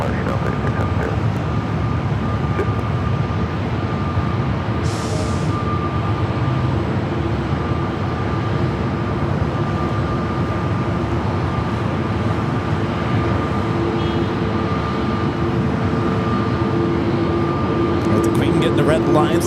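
A Frontier Airbus A320neo passes over LAX with a steady, loud jet roar and a constant engine whine that holds throughout, with airport ambient noise and faint radio chatter in the background.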